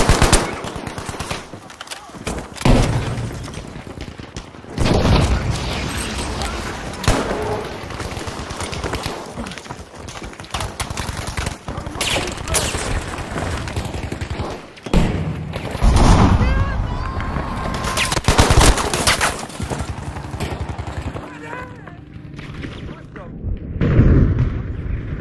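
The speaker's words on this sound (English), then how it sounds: "Lobbing grenade!" Gunfire and a grenade explosion in the video game Battlefield V, with loud, dense bursts of shooting and booming blasts that continue almost without pause and sit close and heavy throughout.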